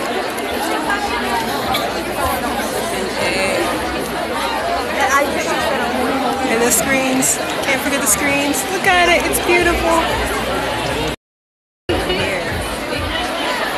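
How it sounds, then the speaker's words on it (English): Dense crowd chatter fills a GOT7 concert venue, a constant babble of many voices with a nearby person talking over it and a brief cut to silence near the end. "the crowd is real."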